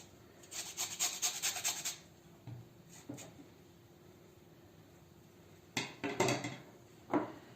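A fresh lemon is grated against a grater in a home kitchen, giving short bursts of raspy scraping strokes, a quick run of close strokes at first, then a few isolated scrapes after a quiet pause.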